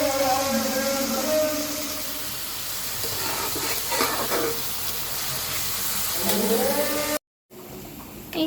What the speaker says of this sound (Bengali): পেঁয়াজটা আমি হালকা করে ভেজে নিচ্ছি